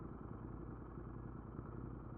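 A motorcycle engine roars steadily throughout the ride, its exhaust recorded from inside a stuffed backpack, so the drone sounds muffled, even and continuous, with no speech.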